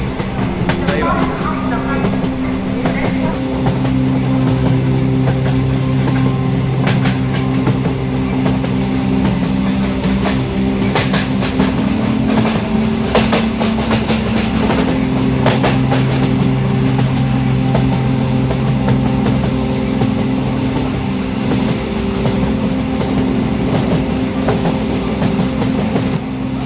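A passenger train from Lucknow rolling along the rails, a steady low rumble with rattling carriage noise and occasional clacks throughout, heard from inside the moving train.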